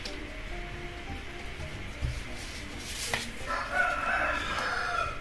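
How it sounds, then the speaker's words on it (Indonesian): A rooster crows at night outdoors, a single call rising over steady background noise, moderately distant and unaccompanied by talk. "Nah, tuh ayam tuh."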